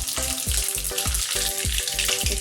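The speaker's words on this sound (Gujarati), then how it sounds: "આપણે તેલ મૂક્યું છે, હવે આપણે એનો વઘાર કરીશું।" Mustard seeds and cumin hit hot oil for tempering a Gujarati moong dal and rice dish, giving a loud, close, steady sizzle with rhythmic spattering pulses throughout.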